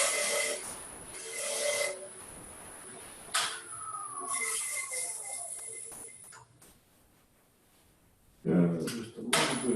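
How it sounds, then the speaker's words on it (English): A negative rake scraper works across turned wood on a lathe, giving rough, rasping scrapes in several bursts with a quieter stretch before a loud final pass. "I'm just going to use a negative rake scraper"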